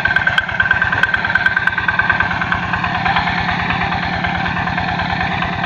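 Hand tractor engine working in a rice paddy, a steady rapid chugging idle with a fast regular pulse, close and loud, accompanied by a sustained whine and mechanical vibration throughout.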